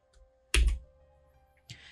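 A computer keyboard keys itself in the small hours with no one at it: one sharp, loud clack, a pause, then a second softer burst of clicks in an otherwise quiet room.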